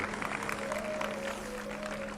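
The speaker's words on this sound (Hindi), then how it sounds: "एक बार जोरदार तालियां हो जाए भाई" Applause from an audience at a Swami Ramdev yoga event fills the whole stretch, with steady dense clapping over a low constant hum.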